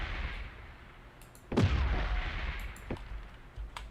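Explosions in the space game Space Crew boom repeatedly, with one heavy blast standing out above a rumbling background of smaller bursts, while a voice speaks briefly.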